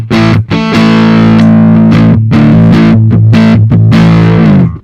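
Electric guitar played through a Boss ME-90 preamp with distortion, loud sustained chords with a few quick choppy stops, thick and saturated, with no talking.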